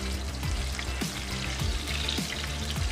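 Eggplant slices frying in oil in a pan, a steady close sizzle and crackle that carries on without a break, with a few soft bumps. No one speaks.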